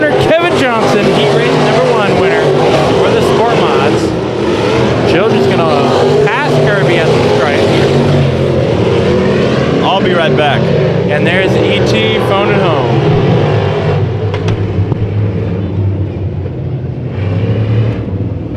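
Race cars in a heat race at Bakersfield Speedway roar loudly and continuously as they circle the track, with engine tones rising and falling while an announcer talks over them throughout.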